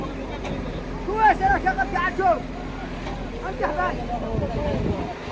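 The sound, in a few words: car engine running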